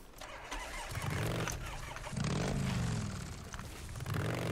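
A faulty motorcycle engine in the video game Days Gone sputters and revs in uneven bursts, cutting in and out several times, moderately close with scraping noise between.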